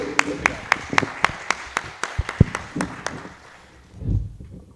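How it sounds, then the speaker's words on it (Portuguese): Scattered applause for a speaker at a Catholic higher-education colloquium, a series of distinct, evenly spaced claps that thin out, followed by a low voice near the end. "Vamos, mais uma vez, aplaudi-lo."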